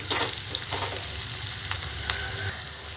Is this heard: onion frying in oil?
yes